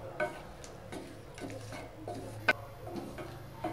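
Vegetarian chickpea and paneer masala sautéed without oil in a splash of stock, giving a faint simmering sizzle broken by a few sharp spoon taps and scrapes against the pot, one clearly louder, with no voices.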